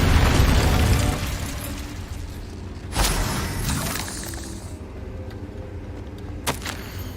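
An Incendio fire spell goes off in the Hogwarts Legacy video game: a loud roaring blast of flame that fades into a sustained crackling rumble, then a second burst near three seconds and a sharp pop near the end.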